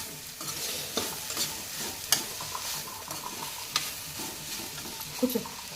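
A ridge gourd and chana curry is stirred in a frying pan, with a steady sizzle beneath it and scattered clinks and scrapes of the spoon against the pan, close and moderately loud.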